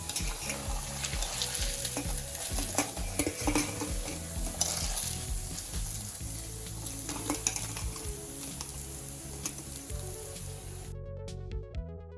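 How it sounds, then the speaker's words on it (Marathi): Sabudana vada deep frying in a pan of hot oil: a dense, even bubbling sizzle with occasional utensil clinks, running continuously beneath steady background music. "या ठिकाणी मी सगळे वडे तळून घेते."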